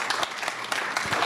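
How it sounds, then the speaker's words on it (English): An audience at a speaking event claps together in a short, dense burst of applause, close and fairly loud, with no speech over it. "let's give her a round of applause just because"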